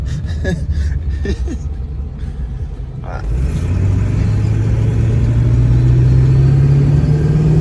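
A 2003 7.3-litre truck engine rumbles steadily, its low hum rising in pitch as it accelerates during a test drive, with some knocks and rattles before it speeds up.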